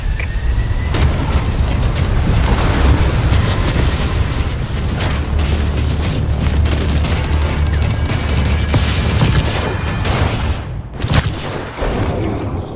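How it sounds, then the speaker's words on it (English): Tsunami waves crash through a multiplayer map in the video game Call of Duty: Advanced Warfare, making a loud, continuous, rumbling roar with heavy booms and crashing surges throughout. "Tsunami warning. Please evacuate to higher ground."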